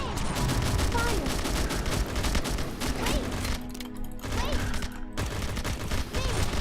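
Gunfire from a ranged character in the game Murder Saga crackles in rapid bursts of sharp shots, loud and dense, with brief pauses between volleys and a voice talking over the shooting.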